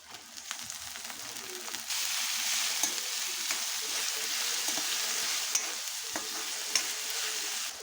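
Bottle gourd pieces fry in a pan with a continuous close sizzle, stirred with occasional spoon clicks and scrapes after a quieter opening.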